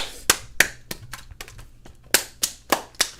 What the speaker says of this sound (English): Everyone, round of applause for Zero Pain Elemental in the goddamn.